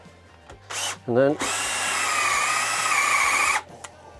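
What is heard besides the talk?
drilling wood with a 10mm auger bit for dowels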